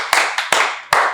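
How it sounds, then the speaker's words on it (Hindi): Four sharp, close hand claps in an uneven rhythm, each ringing briefly before the next, during a mind-reading magic trick show. "बजा लो तालियां तुम भी"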